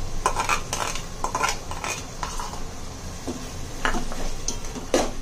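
Spoon scraping and clinking against a pan while misal masala paste is stirred and mixed, with irregular metallic knocks and scrapes over a soft sizzle, close and fairly loud.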